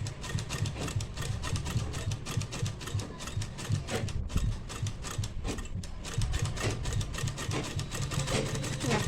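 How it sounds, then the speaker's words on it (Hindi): A sewing machine stitches a blouse with a steady, fast mechanical clatter that runs without a break across the whole stretch, fairly close and even in level, with no talk over it. "फिनिशिंग के लिए मैंने 2 सिलाई मारी है"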